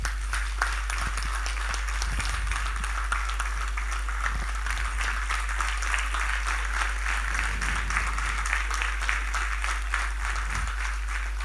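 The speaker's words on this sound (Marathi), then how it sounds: "जोरदार टाळ्या झाल्या पाहिजेत." An audience claps at a felicitation ceremony as honourees are brought onto the stage, a dense, even wash of applause that holds steady throughout.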